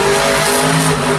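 Monster trucks racing head to head in a Monster Jam arena competition in Brussels, a loud, dense, continuous roar of revving engines close up, with no pause and no talk.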